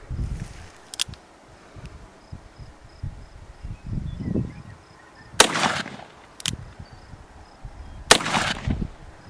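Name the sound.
44 Magnum rounds fired into a dirt barricade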